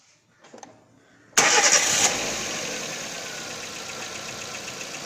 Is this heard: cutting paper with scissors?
no